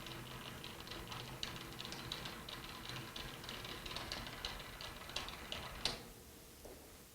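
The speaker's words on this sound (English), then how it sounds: "let's move the cross slide all the way to the front of the machine" Lathe cross slide cranked toward the front of the machine, giving a quiet, steady run of small mechanical clicks and ratcheting ticks, with one sharper click near the end before it settles.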